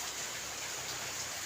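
Heavy typhoon rain, a dense, even hiss of downpour with steady patter on surfaces, continuous and fairly close, with no talking.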